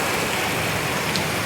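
Heavy tropical rain pouring down in Abidjan, Côte d'Ivoire, a dense, unbroken hiss of drops hitting surfaces, loud and close, with no talking.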